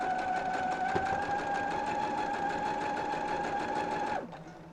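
A sewing machine runs steadily while stitching a large quilt, a continuous close whirring hum with fast rhythmic needle chatter that winds down and stops near the end.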